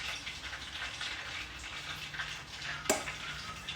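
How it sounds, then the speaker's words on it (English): Steady crackling sizzle of food frying in hot oil, dense and continuous, with a sharp pop near the end. "be very careful when you're frying with oil."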